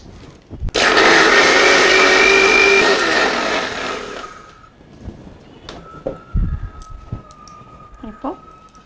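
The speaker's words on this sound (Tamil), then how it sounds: "இப்போ வந்து மிக்சியில் அடிச்சிடலாம்" Kitchen mixer grinder blending curd and sugar into lassi, a loud harsh whirring burst lasting about four seconds that winds down, followed by clinks and a voice speaking nearby.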